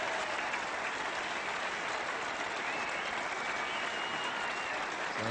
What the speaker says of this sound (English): And a big applause now from Mike Gatting